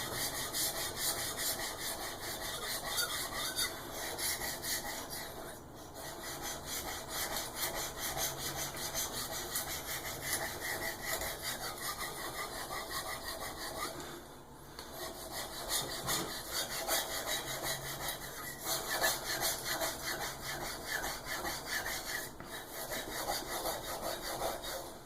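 A knife is sharpened freehand on a whetstone, giving a continuous, fairly quiet rhythmic scraping of steel drawn back and forth across the stone, with a few brief pauses between strokes.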